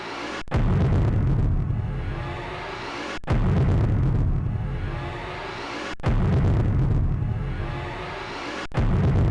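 Missile explosions in the space combat game Escape Velocity Nova, four heavy booming blasts at regular intervals of roughly three seconds, each sharp onset rolling into a long rumbling decay.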